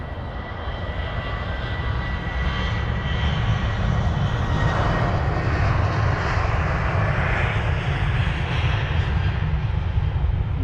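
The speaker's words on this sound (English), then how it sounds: "The KLM 737-800 next to depart off to Amsterdam, flight number KL1012." A KLM Boeing 737-800 departing Heathrow for Amsterdam, its engines a loud, sustained broadband roar that swells gradually and stays strong throughout, with no talking over it.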